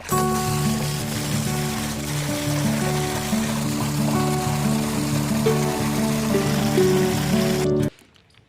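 Water gushes steadily through a pipe into a tank being filled for pesticide spraying on a coriander farm, a continuous close rushing flow with a low droning hum beneath, ending abruptly near the close.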